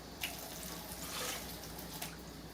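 Water pours steadily from a tap into a container, measuring out 1.5 cups for pressure-cooking quinoa, a quiet, close splashing stream with a couple of small splashy accents.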